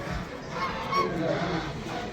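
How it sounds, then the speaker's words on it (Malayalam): Large ducks at a market honk several times in a busy setting, with short nasal calls set against steady background noise. "ഇതൊക്കെ താറാവുകളാ."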